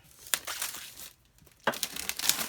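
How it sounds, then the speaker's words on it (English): Plastic wrapping crinkled and torn off a new Best Buy purchase, two close bursts of crackling and rustling separated by a short pause. "let me go ahead and get this plastic off of here"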